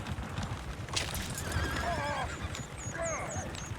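Horses neigh and whinny several times in Red Dead Redemption 2 over a busy background with hoof clatter and faint voices.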